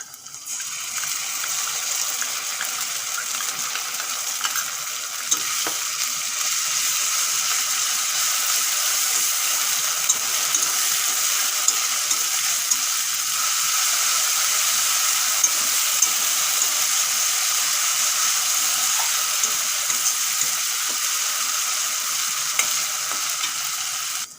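Ginger and garlic paste frying in oil with browned onions for a Bengali green jackfruit dish, a steady bright sizzle that holds evenly throughout with occasional soft ticks from stirring, and no talk.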